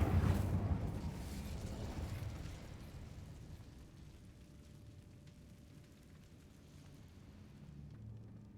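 An Incendio fire spell cast in the video game Hogwarts Legacy: a loud fiery burst at the start that dies into a rumbling, crackling tail over several seconds, with no talk.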